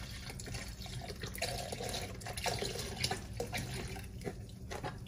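Bone broth pours from a carton into a cooking pot, a steady close trickle and splash of liquid that runs for several seconds at moderate volume with no talking.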